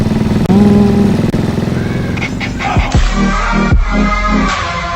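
A motorcycle engine runs loudly up close, first a steady idle, then sputtering and revving unevenly as it is shut off and restarted, with no talking.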